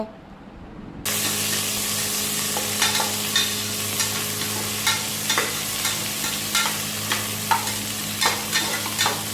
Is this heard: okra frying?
yes